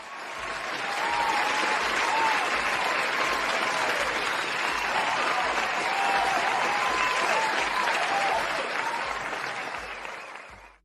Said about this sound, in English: I want to give you guys a little round of applause real quick.